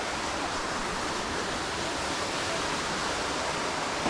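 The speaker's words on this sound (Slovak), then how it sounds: "takže toto je ten vodopád?" A jungle waterfall on Negros island in the rain, a steady, dense roar of rushing water filling the whole clip with no breaks.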